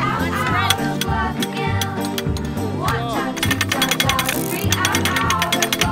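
The ratcheting gear on a canal lock in England is wound by hand, and its quick metallic clicks repeat in bursts. The clicking is close and loud, and people talk over it.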